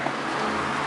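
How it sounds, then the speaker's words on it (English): Road traffic passing outside a garage during clutch repair work, a steady, loud rumble and wash of engine and tyre noise with no breaks. "Sorry about the noise from the traffic."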